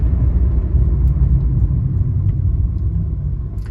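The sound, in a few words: 1992 Mercedes 300D turbo driving downhill, wheel insert rubbing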